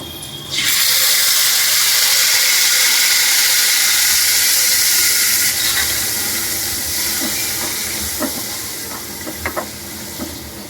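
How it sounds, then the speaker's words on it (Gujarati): Tomato gravy for dum aloo poured into hot tempering oil with asafoetida, bay leaf and curry leaves, bursting into a loud, steady hiss of sizzling that starts abruptly and slowly eases, with a few pops and clinks near the end. "પછી આપણે પહેલાં ટમેટાની ગ્રેવી નાખશું"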